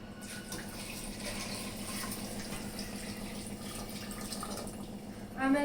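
Water poured into a pressure cooker holding spiced bisi bele bath, a steady splashing flow filling the pot with a brief clatter at the end.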